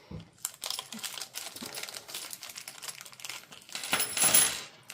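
Small screws and hardware rattle and clink inside a plastic parts bag for a greenhouse automatic window opener, handled close up in a series of crinkly shakes that grow louder near the end.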